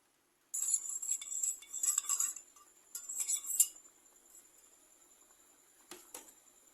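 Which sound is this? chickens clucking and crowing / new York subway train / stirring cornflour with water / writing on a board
stirring cornflour with water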